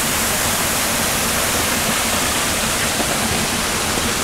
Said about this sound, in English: So I'll give you one more look at Huay Kaew Waterfall.